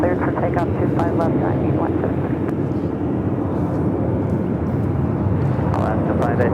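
A Piper aircraft rolls for takeoff on runway 25 left at LAX, its engine a loud, steady drone throughout, with voices talking over the continuous roar.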